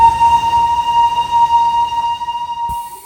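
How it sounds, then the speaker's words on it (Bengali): Darjeeling toy train passing close by, a steady high whistle-like tone with harmonics ringing continuously over low rumble, then cutting off sharply near the end. "একটা টয় ট্রেন চলে এসেছে"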